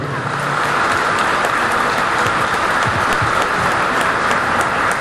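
An audience at an education conference in Cartago, Colombia, gives a loud, sustained ovation for the visiting speaker, a dense roar of clapping that keeps an even level throughout.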